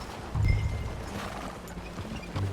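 Hooves of a ridden horse thud in short bursts in the Red Dead Redemption 2 video game, close and moderately loud over a low outdoor ambience.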